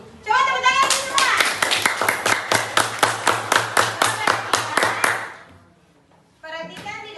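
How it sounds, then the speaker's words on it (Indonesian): Children in a classroom clap their hands in a quick, even rhythm of about twenty sharp claps close by. The claps then fade, and children's voices are heard at the start and end. "Coba tepuk tangan semua."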